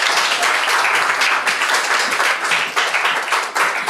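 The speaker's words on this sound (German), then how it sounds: "großer Applaus auch nochmal für dieses Musik" Audience applauding loudly and close by after a music performance at a young farmers' calendar presentation, continuous crisp clapping throughout.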